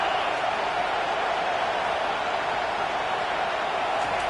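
A stadium crowd roars at a college football game, a dense, steady wall of cheering that holds loud and unbroken throughout with no clear voices rising above it.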